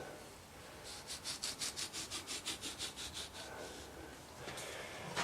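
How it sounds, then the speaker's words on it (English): A thin-wall stainless steel pipe twisted back and forth to cut a sprue hole in a mould for aluminium casting, giving a quiet, rhythmic scraping of about a dozen quick strokes, then a pause and a few more scrapes. "A thin wall stainless steel pipe makes an excellent sprue cutter."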